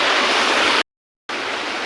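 A hidden natural waterfall in the Konkan countryside roars as a steady, dense wash of falling water, close and loud, cut off by a brief total silence before resuming, with no voices.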